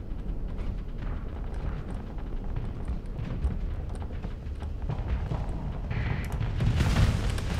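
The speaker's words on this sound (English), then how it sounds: "Antimatter blasters are on auto fire." Antimatter blasters in the space combat game Starsector fire on auto, a continuous rumbling roar of overlapping booms and blasts with low, dense impacts that grow heavier toward the end.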